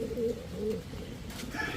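Racing pigeons coo softly nearby, a couple of low rolling calls repeating over quiet room tone, with no talk.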